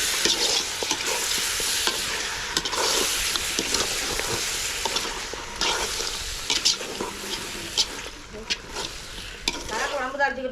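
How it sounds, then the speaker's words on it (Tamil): Chicken sautéing in hot oil for a festive curry meal, a dense continuous sizzle and crackle with frequent scraping stirs of a spoon against the pan, close and loud throughout, with no talk. "இப்போ சிக்கனை சேர்த்து நல்லா வதக்கி விட்டுடலாம்."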